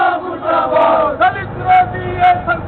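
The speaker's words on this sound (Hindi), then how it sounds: "साथ ही कांग्रेस जिला अध्यक्ष त्रिलोक महर के नेतृत्व में नारेबाजी की" Congress party workers at a protest where an effigy was burned chant slogans in unison, loud, close shouted calls rising and falling in repeated bursts.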